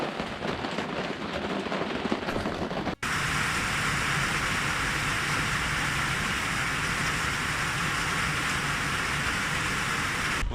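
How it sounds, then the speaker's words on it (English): Rain falls steadily on a tent during an overnight camp on a Montana cycling tour, a dense, even patter that grows louder after a brief break and continues unbroken. "Raining all night."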